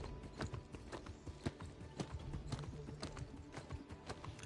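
Horse hooves clip-clop at a running pace in the action RPG New World Aeternum during a horse race, a steady rapid beat of close, fairly loud footfalls with no talk over them.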